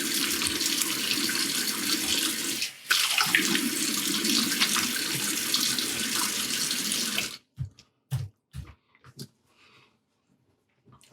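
Tap water runs steadily into a sink while a face is rinsed after a shave, then cuts off, leaving a few faint splashes and small handling noises.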